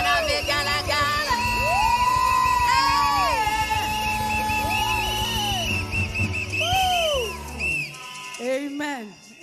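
Church congregation shouting praise with high ululation: warbling trilled cries rise and fall repeatedly over a loud crowd of voices and music, ending in a couple of sharp whoops.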